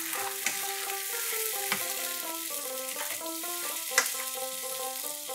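Tomato paste and ginger paste fry in a pan with cardamom and cinnamon, giving a steady bright sizzle with a few stirring knocks, heard close beneath a melodic music track, with no voices.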